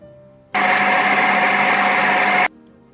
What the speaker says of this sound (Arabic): راح اخلط الجبن والدريم ويب والنوتيلا